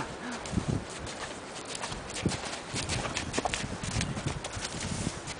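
Hooves of a horse clip-clop steadily on firm ground, a regular walking rhythm that stays fairly close and moderately loud, with faint background noise and no talk.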